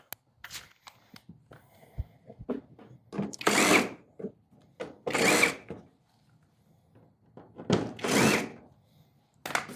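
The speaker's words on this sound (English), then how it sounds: "So start by taking some of these screws out." A power drill backs screws out of the plastic covers on a Craftsman 5.0 hp two-stroke snowblower, firing in several short whirring bursts between quieter clicks and handling noises, close and alone.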